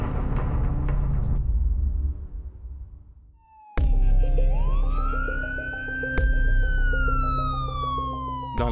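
A police siren wails in the street, its rising and falling electronic tone sweeping loudly over traffic noise after a brief quiet moment.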